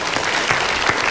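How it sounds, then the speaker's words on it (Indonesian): Brief burst of audience applause at an Indonesian motivational TV show, dense clapping at a steady loud level with no voices over it. "Semoga sekali lagi tepuk tangan untuk Fikri."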